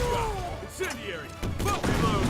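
Rapid gunfire bursts from a shooting attack in the fighting game Marvel vs Capcom Infinite, several quick cracks in succession mixed with game effects under excited commentary.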